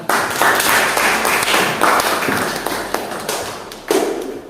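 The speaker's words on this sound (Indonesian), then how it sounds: "tepuk tangan untuk pemerintah" A class clapping together in a classroom, loud, dense applause with a few swells and a short fresh burst near the end.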